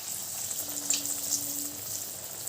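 Gram-flour-battered paneer frying in hot oil, a soft steady sizzle with faint crackles and a low hum, close and quiet with no talking.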